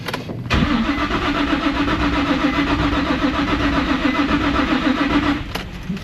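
A car engine cranked over by the starter during a compression test in a repair shop, a steady rhythmic chugging that runs for about five seconds after a click, then stops.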